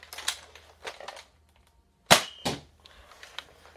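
A Nerf gun fires during a game played in the dark, giving one sharp, close snap followed by a softer pop, with faint clicks and handling noises around it.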